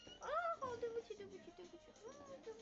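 A small cat meows several times in rising and falling cries during an SNH48 member's Pocket48 livestream, close and fairly clear, with a faint voice in the background.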